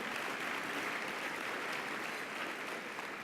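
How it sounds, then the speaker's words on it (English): Steady, dense applause from a gala audience at a recognition event, loud and continuous throughout with no break, filling the room without any talk over it. "Give her a round of applause."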